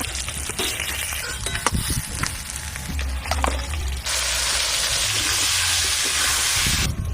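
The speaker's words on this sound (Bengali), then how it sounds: "পেঁয়াজগুলো খুব ভালো করে ভেজে নিয়েছি।" Onions frying in a pan sizzle steadily up close. A few utensil clinks come early, and then a louder, broad hiss swells and holds for several seconds.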